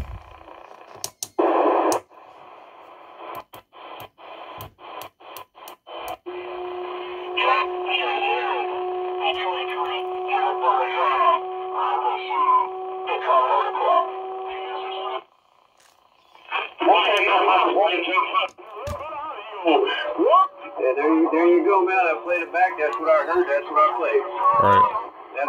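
Radio static hisses from a K-PO DX-5000 Plus 10-meter radio tuned to AM, with noise reduction on, while faint, garbled voices come and go, with a steady tone humming through the middle and a few clicks.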